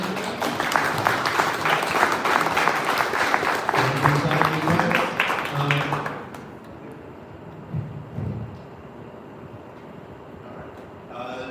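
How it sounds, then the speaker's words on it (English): A crowd at a Detroit town hall and expert panel breaks into dense applause that holds steady for about six seconds, then cuts off sharply, leaving quiet room tone and a brief murmur. "One round of applause."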